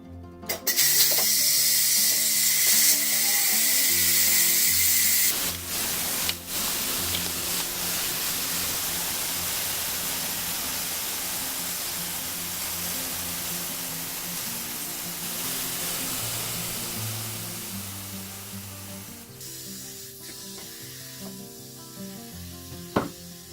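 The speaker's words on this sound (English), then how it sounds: "do a quick pressure release by opening the pressure valve" Instant Pot electric pressure cooker on quick pressure release, its valve venting steam in a loud, steady hiss that holds for over twenty seconds, tapering slightly toward the end, with no talking.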